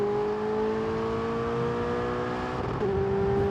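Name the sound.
Ferrari supercar engine revving in F1 2022 video game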